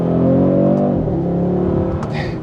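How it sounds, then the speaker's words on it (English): A 2025 Audi RS3 engine pulls hard out of a turn, loud and close from the cabin, its rising growl shifting pitch as it revs up and changes gear, with no talk over it. "these things pack a nice punch coming out of a turn"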